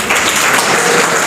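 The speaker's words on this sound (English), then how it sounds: "Clap for her." A classroom of students claps for a girl who gave a correct answer during an English guidance lecture, a dense, steady patter of many hands lasting about a second, close and loud.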